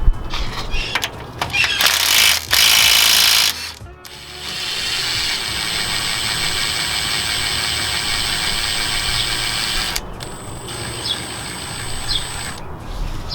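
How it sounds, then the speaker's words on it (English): A ratchet fitted with a 19mm socket loosens the lower shock bolts on a Lexus GX470, giving bursts of rapid metallic clicking with short pauses, close and loud, before a longer quieter stretch of ratcheting turns. "with the 19mm socket, I'm gonna go ahead and take this off"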